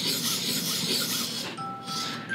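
A knife blade drawn across the stone of a KME guided sharpening system, giving a close, steady rasping scrape that changes to a lighter stroke partway through.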